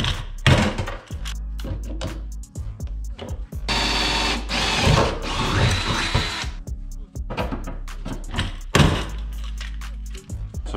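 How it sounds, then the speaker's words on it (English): A power drill bores through an aluminum cross brace on a 1436 jon boat during seat mount installation, giving several loud whirring bursts with sharp starts and stops, the longest lasting a few seconds, mixed with knocks and clunks nearby. "I'm gonna drill through here."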